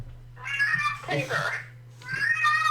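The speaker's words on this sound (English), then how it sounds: "That's a cat." A cat meows loudly and close by, drawn out and wailing, with a person speaking briefly between the cries.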